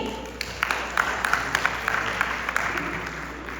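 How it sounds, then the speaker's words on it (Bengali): Scattered audience applause at a Victory Day celebration, a thin patter of individual claps with light crowd murmur, moderately near. "সবাই একটু তালি দিতে পারি?"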